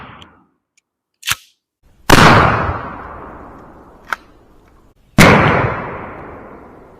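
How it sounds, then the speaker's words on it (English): Two loud shotgun blasts from Hornady lead BB shotshells, each a sharp crack with a long rolling echo outdoors, with a couple of smaller sharp pops in between. "here we go with the last shot with the Hornady BBs"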